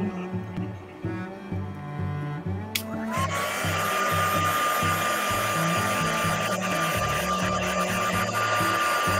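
A hair dryer dries green paint on a glass bottle. After a few seconds of quieter low tonal background, it switches on abruptly and blows as a steady, close, continuous whoosh with a faint high whine.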